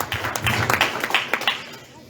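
A church congregation claps during a sermon, with scattered, uneven hand claps that stay fairly quiet and brief, and some voices are mixed in.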